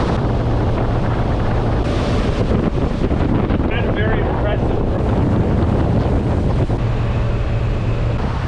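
A boat motors down a Florida canal, its engine drone loud and constant beneath heavy wind buffeting on the microphone, with water rushing along the hull.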